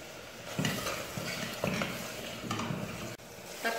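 Tomato curry sautés in a pan while being stirred, with soft, fairly quiet sizzling and a few rhythmic scraping sweeps of a utensil against the pan.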